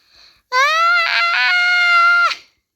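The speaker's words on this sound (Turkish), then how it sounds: "Kızım bağırma." A girl lets out a single loud, sustained high-pitched scream lasting about two seconds, close and piercing, with a brief wavering break in the middle, preceded by a faint short sound.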